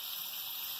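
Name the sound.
water poured from a cup into frying spices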